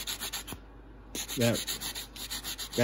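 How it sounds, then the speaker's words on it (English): Chrome being sanded off a Snap-on FV71 part with sandpaper or a sanding block, quick rhythmic rasping strokes up close, briefly paused, with a short vocal sound in between. "I'll have to use a, you know, sandpaper or maybe even my block here and kind of remove all of that"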